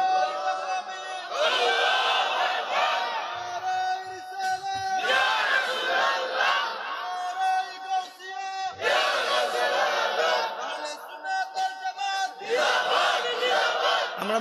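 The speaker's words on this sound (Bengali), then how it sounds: "একটা তাকবীর হবে জোরে তাকবীর দিবেন" A large religious gathering roars a takbir (Allahu Akbar) in unison during a Bangla Islamic sermon, loud massed voices swelling in repeated waves of shouting with brief dips between them.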